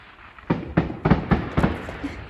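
A quick run of about five sharp fireworks bursts pops in steady succession at a beach, each a crackling thump with a short tail, fading into faint background hiss.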